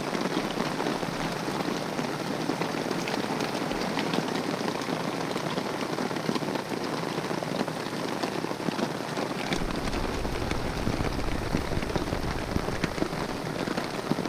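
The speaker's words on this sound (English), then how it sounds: "Love listening to the sound of the rain." Steady, dense rainfall patters on a surface without a break during a rainstorm on a black bear hunt, a continuous close hiss of drops with no voices.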